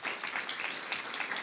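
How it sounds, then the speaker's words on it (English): Steady applause from an audience at a talk, a dense wash of many hands clapping at even loudness throughout, with no talking. "can we have a round of applause for the two of them?"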